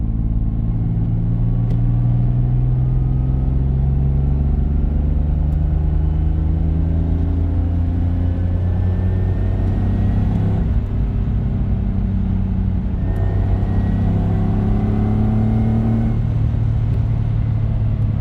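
A car with engine issues runs close up, its engine and exhaust rumbling loud and continuous, rising and falling through several revs.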